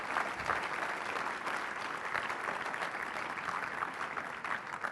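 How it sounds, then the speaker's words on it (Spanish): A church congregation applauds, a steady wash of many hands clapping at moderate loudness that stays even from start to finish. "Un aplauso a Dios, por favor."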